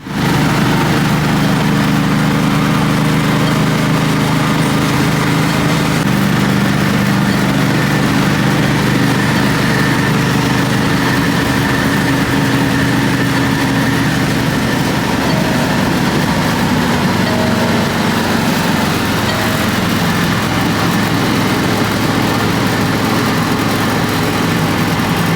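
A street-driven NASCAR race car rumbles on the road with a deep, continuous engine drone that holds steady, then shifts lower in pitch toward the end, with no voices.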